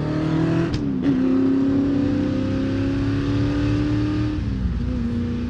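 A 1965 Shelby GT350 engine roars and revs up in the desert, pitch climbing and shifting through gears, sustained and close throughout.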